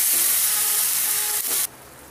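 Tomato, ginger and green chilli gravy frying in a pan on a medium gas flame, a loud steady broadband sizzle that cuts off abruptly, leaving a faint hiss.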